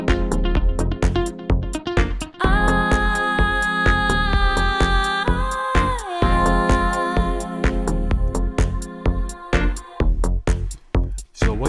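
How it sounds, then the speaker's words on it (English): A muted guitar sample from the RG instrument, triggered by a sequencer, plays a fast, rhythmic melodic pattern of short plucked notes with sustained tones in the middle, loud and alone. "What you hear is the muted guitar"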